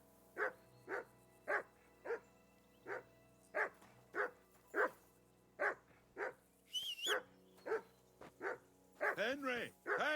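A dog in the video game Kingdom Come: Deliverance 2 barks in a steady, evenly spaced series of single woofs, then gives a few yips and a whimpering whine near the end, with no talk over it.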